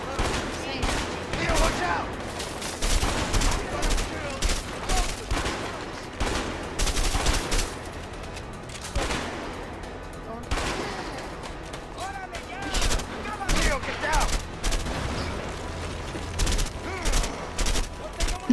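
Rapid gunfire bursts from the co-op prison-escape video game A Way Out, repeated volleys spread across the clip, loud and dense, with players talking over the shooting.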